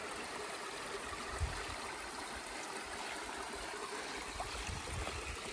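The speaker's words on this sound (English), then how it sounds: "We have a nice little waterfall here." A small waterfall on a hiking trail in Northern California flows in a steady, continuous rush of splashing water, close and even throughout with no voices.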